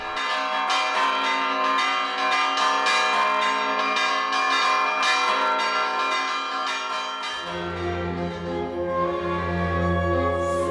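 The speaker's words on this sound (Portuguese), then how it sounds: "os sinos da Igreja São Francisco ainda hoje participam da tradicional Batalha dos Sinos" Church bells of the São Francisco church in São João del Rei, Brazil, ring in a loud, dense, overlapping peal, then give way to a steady sustained low droning tone near the end, with no talking.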